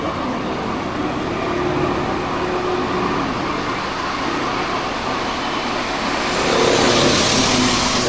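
Heavy road traffic in Milind Nagar forms a continuous dense roar of engines and tyres, close and loud, swelling slightly toward the end.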